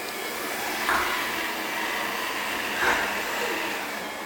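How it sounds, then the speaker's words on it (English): A DJI ROMO robot vacuum cleaner runs indoors as a steady, fairly quiet broadband whir, with two brief swells around the one- and three-second marks. "it doesn't make loud noises, so Chili was quite chill when the DJI ROMO was around."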